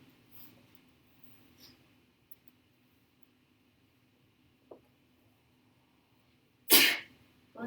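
A single sharp sneeze bursts out near the end of a quiet calculus classroom lecture, loud and abrupt against faint room hum, followed by a brief trailing sound.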